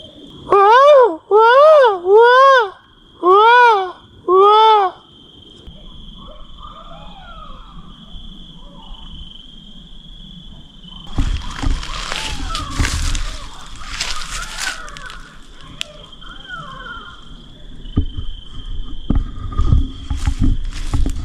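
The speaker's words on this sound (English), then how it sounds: "Do you hear that shit? Those are coyotes." Coyotes yip and howl in four loud, wavering bursts close by at night on the Appalachian Trail, followed by rustling and shuffling noises in the camp.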